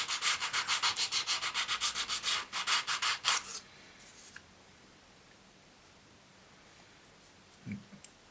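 Hand sanding of a wooden stairwell piece, about a dozen quick rhythmic back-and-forth rasping strokes, close and clear, followed by quiet with a faint handling sound near the end.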